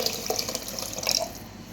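Water runs and splashes into a cooking pot for corn soup with chicken, a brief steady pour with small drips and clinks, close and fairly loud.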